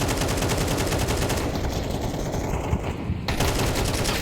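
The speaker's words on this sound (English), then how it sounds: "Empathy's AK bullets even hurt harder" Rapid, continuous automatic fire from an AK rifle in Counter-Strike on the Inferno map during a professional esports match, dense, loud and unbroken for several seconds.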